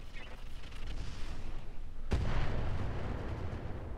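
An incendiary artillery strike lands in Roguetech, first as a low rumbling background, then a sudden booming impact that swells into a sustained roar of fire and blasts, loud and fairly close.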